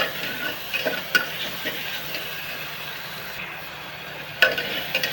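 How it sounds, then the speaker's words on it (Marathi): Onion frying in a pan for a white pea bhaji, a soft steady sizzle with occasional stirring clicks and scrapes, close and moderately quiet, no voices. "ते कांदा लवकर भाजतो."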